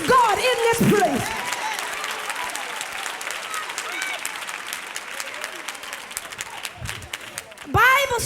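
At a church service, the congregation claps in a sustained burst of applause, with voices calling out through it and louder swells at the start and end.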